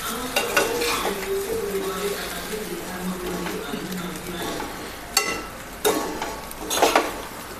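Sabudana khichdi roasting in a tri-ply pan, with steady stirring scrapes and soft sizzling, punctuated by a few sharper clinks of a utensil against the pan near the end; a voice speaks over parts of it.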